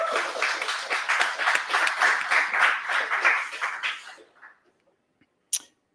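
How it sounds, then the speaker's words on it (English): Audience applause for event sponsors at a games industry talk night in Glasgow, a dense burst of clapping lasting about four seconds before tapering off, followed by quiet and one brief sharp noise near the end. "so please give them a big round of applause."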